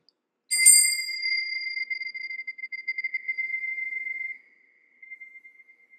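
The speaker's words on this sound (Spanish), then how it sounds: "tienes la campana, por favorcito?" A hand bell rings once with a sharp strike, then its clear, high metallic tone sustains and slowly fades, with a faint shimmer continuing near the end.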